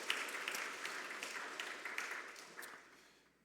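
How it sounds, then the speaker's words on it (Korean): A church congregation at a Sunday service claps in encouragement for members who have dedicated themselves, a faint, diffuse round of applause that slowly fades away. "우리 격려의 박수 한번 해주세요"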